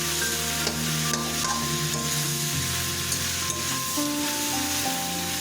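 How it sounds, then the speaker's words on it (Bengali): Masala with green chili and chopped tomato sautéing in a pan over low to medium flame, a steady close sizzle with continuous scraping and stirring throughout, no voices. "এখন এটাকে আরও আমরা মিনিট 7 ধরে লো থেকে মিডিয়াম ফ্লেমে কষাতে থাকবো"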